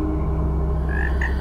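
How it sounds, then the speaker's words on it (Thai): A chorus of frogs croaks steadily and close by, with a few brighter, higher calls rising over the continuous low pulsing din. "ออกหาจับกบเขียดกินในบริเวณไม่ไกลนัก เธอล่องลอยมาตามเสียงของเหยื่อ"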